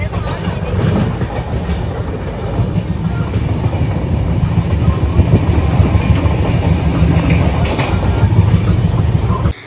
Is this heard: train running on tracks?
yes